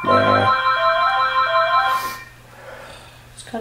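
A telephone ringtone plays loudly and up close, a bright, steady electronic melody of stepped tones that rings for about two seconds before cutting off into quiet room noise.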